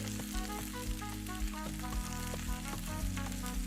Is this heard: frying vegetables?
yes